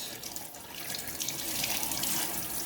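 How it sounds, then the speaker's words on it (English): Tap water runs steadily over plant roots while a plant is repotted, a continuous close splashing hiss with no talk. "we shower the roots."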